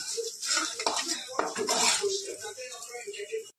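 Flat bean mash with salt, pepper and turmeric being stirred in a pan, with clattering spoon-on-metal scrapes under a voice talking throughout.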